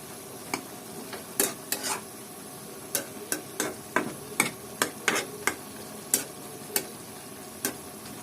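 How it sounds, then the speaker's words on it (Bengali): Green chillies frying in oil for a dried-fish and helencha greens dish, a low steady sizzle under a series of distinct sharp spoon scrapes and taps against the pan, about a dozen spread irregularly. "এটা তেলের উপরে করতে হবে তো এখন আমি এর মধ্যে কাঁচামরিচ দিয়ে দেবো"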